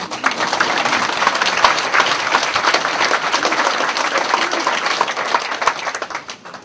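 A church congregation claps together in a dense, lively round of applause that stays steady throughout, with sharp individual claps audible in the mix.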